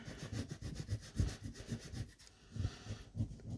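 Scratching the coating off an FDJ scratch-card lottery ticket, a close repetitive rubbing rasp in short uneven strokes, with a brief faint high squeak near the end.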